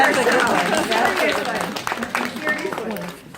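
An audience at a women's professional conference claps in a sustained, dense patter of applause that gradually thins and fades toward the end, mixed with a murmur of voices.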